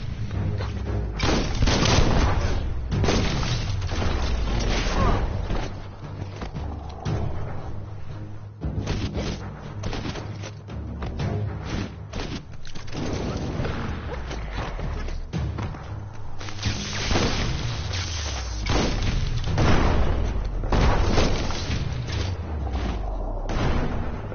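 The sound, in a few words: bomb lobber explosions in Biomutant video game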